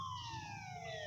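Siren Head monster in a video game wailing with a steady, slowly falling siren tone, heard alone and continuous through the whole short moment, moderately loud against a faint background.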